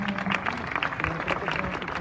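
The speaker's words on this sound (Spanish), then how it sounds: "Un fuerte aplauso para nuestros expositores, por favor" An audience at a lecture event applauds the speakers, a short burst of scattered clapping mixed with a voice talking over it.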